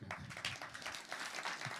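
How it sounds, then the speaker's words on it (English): An audience clapping in a concert hall, a quiet brief patter of many hands with a slightly roomy sound and no single claps standing out. "you guys can all clap if you want to."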